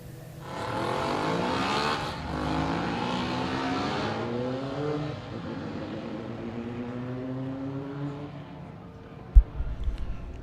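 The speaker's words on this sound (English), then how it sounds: "The motorcycle engine single-seaters are back on track." Single-seater Formula Libre and Formula M race cars with motorcycle engines scream past on track, their high revving engines rising and fading in a long Doppler sweep, followed by a brief thump.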